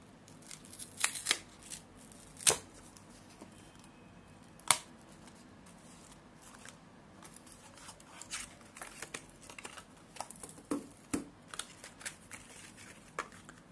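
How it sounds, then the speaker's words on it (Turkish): Crinkling and tearing of a Lindt Roasted Hazelnut dark chocolate bar wrapper, a run of sharp close crackles and snaps, sparse at first then busier, with no talking. "Ben de hemen paketi açayım."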